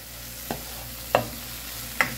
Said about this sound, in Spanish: aquí ustedes ya pueden ver que esto ya está sofrito